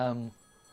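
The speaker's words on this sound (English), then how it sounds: "but that's my phone. I have to take it." A telephone rings once in a short harmonic burst lasting about a third of a second, then cuts off into near silence.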